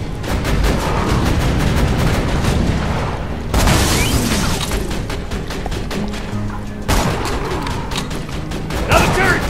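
A turret fires nonstop in the Borderlands 2 video game, with loud, rapid booming gunfire and heavy thuds. A brief explosive burst stands out midway.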